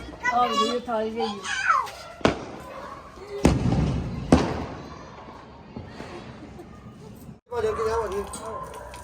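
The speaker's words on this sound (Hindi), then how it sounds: "पटाखे भी चल रहे हैं।" Firecrackers go off outdoors during a Karwa Chauth evening, a few sharp cracks and thuds amid children's chatter and play, with one louder burst standing out in the middle.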